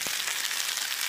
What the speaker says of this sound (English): I'm going to add a chopped up 1 onion and 2 garlic cloves